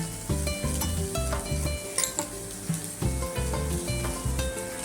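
Onion softening in oil in a pan for a home-style cabbage dish, a steady close sizzle with stirring scrapes, while a tonal musical background pulses throughout at moderate level.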